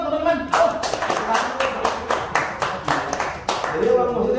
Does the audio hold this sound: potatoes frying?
no